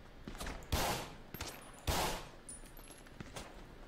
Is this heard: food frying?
no